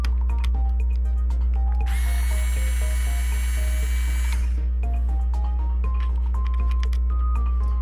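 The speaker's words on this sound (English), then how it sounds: "if you're looking for a good electric screwdriver, this Ryobi one's really nice" Ryobi electric screwdriver whirring in a single high motor burst for about two and a half seconds, with clicks and handling noises around it over a steady low hum.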